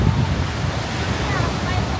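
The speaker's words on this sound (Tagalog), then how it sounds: "Grabe yung waves." Ocean surf at Boracay during habagat season, a continuous rough roar of breaking waves with heavy wind noise on the microphone, steady and fairly loud with low rumbling surges.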